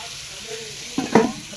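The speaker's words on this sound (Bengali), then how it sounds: "মাটনটাকে ভালো করে কষে নেব" Mutton being sautéed in a pan, a steady low sizzle under the room hiss that flares into a brief louder burst of frying as the meat is stirred near the end.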